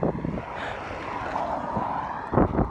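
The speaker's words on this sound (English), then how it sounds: "It's a little breezy." Breezy outdoor wind buffeting the microphone, a steady low rumble with gusts swelling toward the end, heard alone without talk.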